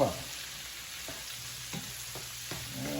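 Bacon and red potatoes fry with paprika in a pan, a soft, steady sizzle with a few scattered clicks from stirring, fairly quiet and with no voices over it.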